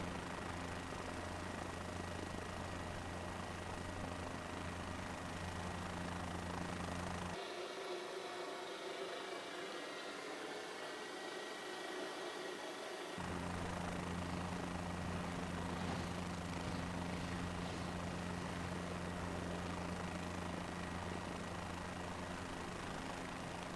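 Helicopter engine and rotor drone from Microsoft Flight Simulator, a steady loud hum with a low tonal throb during a helipad landing, briefly dropping to a thinner, quieter whine midway before the full drone returns.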